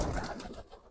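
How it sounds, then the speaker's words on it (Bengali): A pigeon in a pigeon coop coos softly, a short low murmuring call that trails away within a second. "ওই যে কবুতর"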